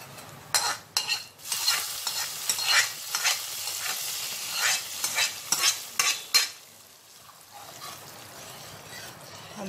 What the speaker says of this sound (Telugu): ఇప్పుడు ఈ పోపుని మనం పప్పులో మిక్స్ చేసుకుందాము